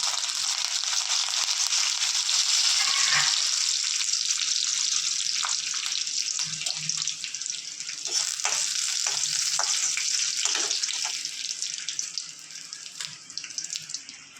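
Dried chillies, curry leaves and urad dal fry in hot oil for a chutney tempering, a loud continuous crackling sizzle with popping spits and spatters scattered through it, no voices.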